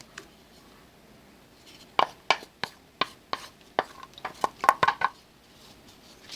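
A knife chops garlic on a board in sharp, uneven strikes, about a dozen in quick bursts, close and clear, with no talking.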